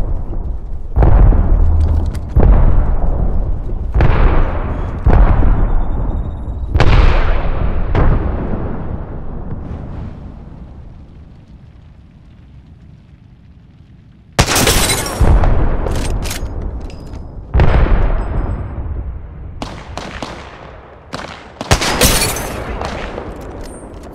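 Heavy gunfire from enemies in the shooter game Apex Legends, loud bursts of shots and booms in repeated volleys with a quieter lull midway, then dense firing again, no talk.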